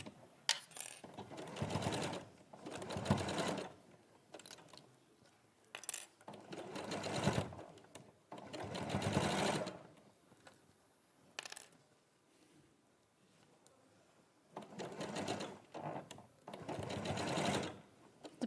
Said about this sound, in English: We're just going to sew these with an 1/8 inch seam allowance.